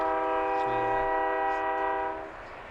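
A train sounds a sustained multi-tone horn blast lasting about two seconds over the rumble of its passing, loud and fairly close, then the horn stops and the rolling noise carries on more quietly.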